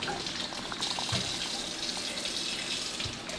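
Honey water, about nine cups of water to one cup of honey, streams steadily into canning jars with a continuous close splashing gush and no talking.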